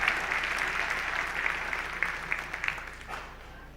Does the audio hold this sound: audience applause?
yes